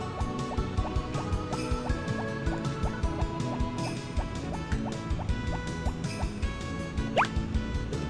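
Water drips and trickles into a container nearby, with a steady run of small plops and liquid filling sounds, quiet and continuous, with no voices over it.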